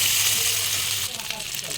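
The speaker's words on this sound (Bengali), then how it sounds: "মশলাটা এবার ভাজা হয়ে গেল" Spices frying in hot oil in a pan for an egg curry, a bright continuous sizzle that softens slightly midway as the mixture is moved, close and steady.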